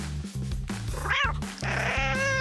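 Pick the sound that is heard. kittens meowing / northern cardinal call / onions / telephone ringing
kittens meowing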